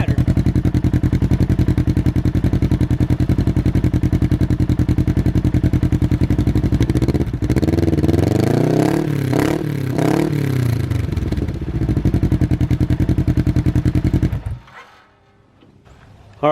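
A Kawasaki KRX 1000 side-by-side engine with a Trinity slip-on exhaust runs loud and close, idling steadily with a short rev in the middle before shutting off.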